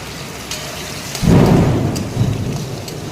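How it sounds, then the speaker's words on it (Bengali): Heavy rain hisses steadily until a close, loud crack of thunder bursts in and rumbles off, followed by a smaller second roll under the ongoing downpour. "বাজ পড়ছে, সাংঘাতিক বৃষ্টি হচ্ছে।"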